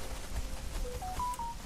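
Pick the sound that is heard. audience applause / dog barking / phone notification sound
phone notification sound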